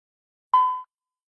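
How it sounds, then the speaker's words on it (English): A single clean electronic beep, steady in pitch, lasting about a third of a second against silence. "Each time before Linda starts talking, you'll hear a beep"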